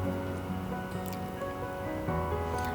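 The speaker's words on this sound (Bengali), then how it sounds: "লো টু মিডিয়াম হিটে কিন্তু আলুগুলোকে ভেজে নিচ্ছি" Potato pieces frying in oil over low to medium heat for a mutton curry, a steady dense sizzle and crackle with fine bubbling, close and continuous.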